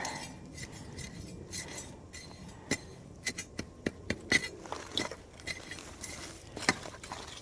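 Old glass bottles being dug up, with a string of sharp, bright clinks and taps scattered over a quiet background of scraping and handling, some in quick bursts, with no talking.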